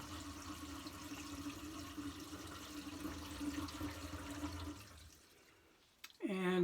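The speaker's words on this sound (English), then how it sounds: "I'm going to let the water out, unstop it and let the water out. And you may be able to hear it running down." Water drains from a sink through a newly installed Moen garbage disposal, a steady rushing flow with a low hum that fades out near the end before a brief louder clatter.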